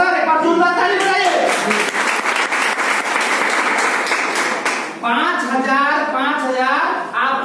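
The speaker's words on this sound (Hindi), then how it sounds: "एक बार जोरदार ताली बजाइए" An audience at a business plan presentation bursts into loud, sustained clapping and cheering for several seconds, then continues more loosely as a voice speaks over it.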